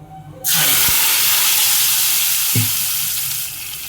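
Loud, steady sizzling of tempering spices hitting hot oil for fish curry begins abruptly and hisses continuously, with a couple of brief clinks of a utensil.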